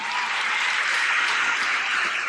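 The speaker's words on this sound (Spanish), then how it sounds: "Dale un aplauso al Señor." Sustained applause from a church congregation fills the space, steady and fairly loud with no pauses.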